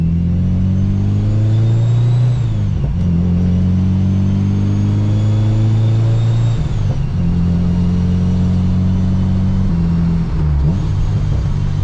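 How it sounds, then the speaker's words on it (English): A supercharged Honda K20 engine in an Acura RSX, running without intake piping, pulls hard through the gears while driving, with a loud rising drone and a supercharger whine that climbs, dips at each shift and climbs again. "Alright guys, I'm taking the car for a spin right now."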